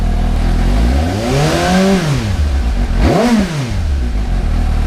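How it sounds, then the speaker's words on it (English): A 2018 Suzuki GSX-S750 motorcycle fitted with a RadiantCycle GP Shorty exhaust idles loudly up close, then revs twice, its engine note climbing and falling in two sharp swells over a steady idle. "Now we'll rev it a little bit."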